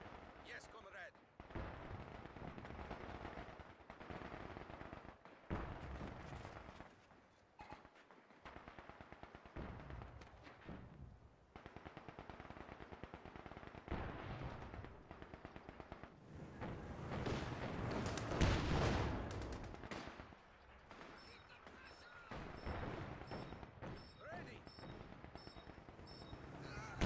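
Gunfire and explosions from the real-time strategy game Company of Heroes 2 during a 4v4 multiplayer battle on a muddy map: repeated bursts of machine-gun fire and heavy blasts, dense and loud throughout, with voices talking over the combat.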